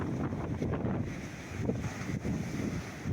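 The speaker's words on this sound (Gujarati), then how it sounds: "એકદમ દરિયા કિનારે મસ્ત મજાનો પવન પણ આવે." Strong wind blows on the seashore at Talaja, rumbling against the microphone in a steady low roar with faint surf underneath and no one speaking.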